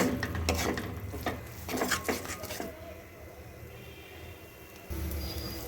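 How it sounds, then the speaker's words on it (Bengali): A bitter gourd mixture stirred continuously in a wok over a high gas flame, with bursts of spatula scraping and clatter that fade to a quiet low hiss, then a faint rise at the end. "এইভাবে অনবরত নাড়বো আর শুকিয়ে নেব"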